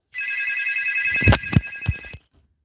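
A telephone rings for an incoming call during a live broadcast show, a steady electronic ring lasting about two seconds with a few brief knocks or clicks near its end, fairly close and clear, with no talking over it.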